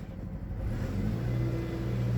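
A Jeep Patriot engine runs roughly at close range, a steady low rumble that swells slightly as it goes, with no talking.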